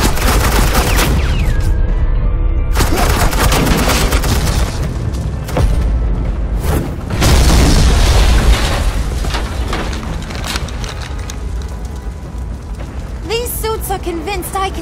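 Heavy suppressing gunfire in Batman: The Enemy Within, loud sustained automatic bursts and booming impacts rolling continuously for the whole stretch, with brief dips between volleys and chatter underneath.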